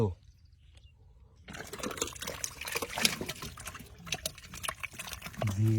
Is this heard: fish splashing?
yes